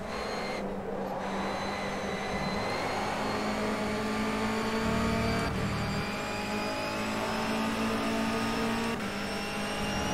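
Race cars in a racing video game, set at a Japan round of the ITC championship, roar continuously with steady engine drone and occasional gear-shift blips, no voices over the constant mechanical whine.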